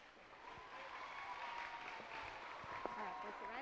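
Students at a school character-awards assembly get steady, moderate applause across the whole stretch, sounding like a crowd clapping in a large room while the faint murmur of voices sits underneath.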